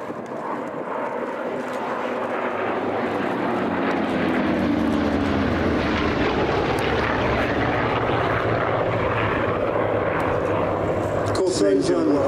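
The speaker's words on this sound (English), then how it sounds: "The three fighters coming out of the sun." Three vintage fighter aircraft sweep past at the Sywell Airshow 2024, their propeller engines building into a loud, sustained roar that swells and shifts pitch as they pass, with a commentator talking over the noise.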